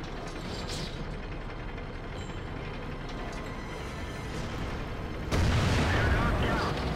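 A tank cannon fires in World of Tanks amid constant mechanical battle noise, a single loud, heavy blast breaking in near the end and sustaining a roar over the ongoing engine and track rumble.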